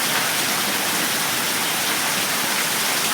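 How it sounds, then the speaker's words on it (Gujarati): Heavy rain pours down in a dense, even hiss that stays loud and unbroken throughout, with no voices. "વરસાદ આવી ગયો"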